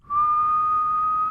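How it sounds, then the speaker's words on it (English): A single steady whistled note, clear and close, held without a break for over a second. "and just start whistling"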